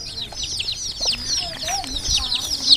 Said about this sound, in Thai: ไก่น้อยเพิ่นก็จิบ